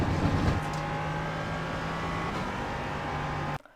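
An LMP3 prototype race car circles Watkins Glen in iRacing, its engine a loud, steady high-pitched drone holding near one pitch for a few seconds before cutting off abruptly.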